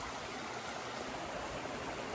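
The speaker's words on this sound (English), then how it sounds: "So I am sitting in the creek right now" A creek's water flows steadily around someone sitting in the stream, a continuous soft rushing and burbling at close range with no voices.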